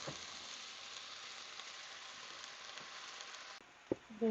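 Malabar spinach dropped into a pan of browned garlic and onion, frying with a steady, fairly faint sizzle, a couple of light clinks near the end, no talking.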